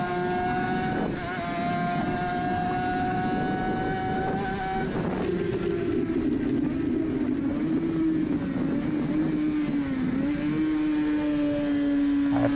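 Suzuki RG500 two-stroke racing motorcycle engine at the Isle of Man classic race, heard onboard as a loud, steady high-pitched wail that shifts pitch as it changes gear, sustained throughout with heavy wind rush.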